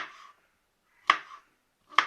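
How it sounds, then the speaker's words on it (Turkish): Two sharp knife chops through mushrooms on a cutting board, about a second apart, crisp and close, with a softer slicing scrape before them. "Hafiften şöyle 3 milim kalınlığında falan doğrayıp atıyorum."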